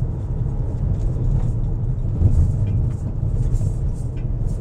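Cabin noise inside a moving Kia Sorento: a steady low road and engine rumble with faint tire hiss, continuous and even throughout.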